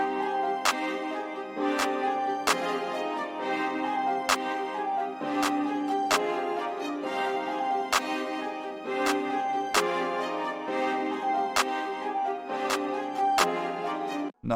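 Programmed drum pattern built in FL Studio, with sharp clap hits landing at steady intervals over a dense, continuous beat, loud and upfront with no voices.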